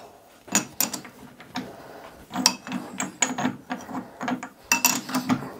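A four jaw chuck on a metal lathe being loosened with a chuck key, giving irregular metallic clicks, ratcheting and clunks of the jaws moving, close and fairly loud.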